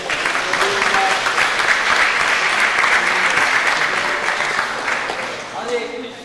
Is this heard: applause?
yes